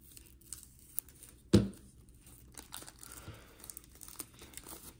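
A 1996 Upper Deck Nestle Slam Dunk card pack's crinkling plastic wrapper is handled and torn open at the notch, one sharp rip followed by scattered rustling and crackling close by.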